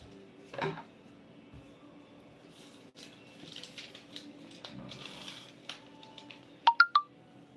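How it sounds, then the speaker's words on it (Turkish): A phone notification chime during a livestream: a short bright burst of three quick tones near the end, after quiet room noise and a few faint clicks. "E, bildirim geldi."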